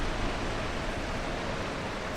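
Steady broadband rush of waterfalls in the video game The Talos Principle, a continuous, even roar of falling water with no breaks, fairly loud and alone.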